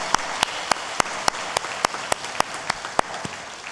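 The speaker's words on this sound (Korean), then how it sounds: "우리 함께 영광의 박수 올려드리겠습니다." A church congregation at a Sunday service claps in unison for about a dozen sharp, evenly spaced beats, each crisp clap landing on a steady rhythm with a faint room murmur between them.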